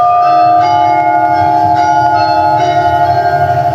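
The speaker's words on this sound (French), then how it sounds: "Un carillon de 9 cloches qui sonnent tous les quarts d'heure, nuit et jour." Church carillon of nine bells ringing, a steady sustained metallic tone with overlapping resonant strikes that hum on continuously, loud and close, with no voices.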